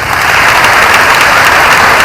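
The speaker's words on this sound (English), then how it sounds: "Let's give Cindy another round of applause" Loud close applause from a film festival closing-night audience, a thick continuous burst of many hands clapping with no talking.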